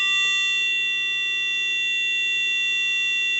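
A PIC16F887 music player sounds a steady electronic tone at about 405 hertz. The tone holds unchanged throughout over faint background hum, with a buzzy stack of bright harmonics above it.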